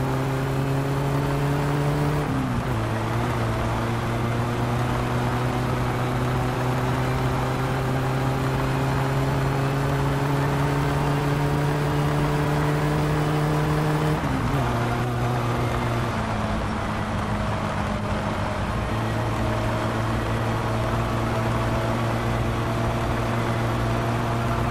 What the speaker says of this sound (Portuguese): o carro tá rápido pra caramba